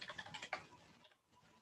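Quiet keystrokes clatter on a computer keyboard in a short, uneven burst of typing that trails off into near silence.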